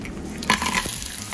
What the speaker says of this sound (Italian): Appena l'aglio si è dorato aggiungo le cozze.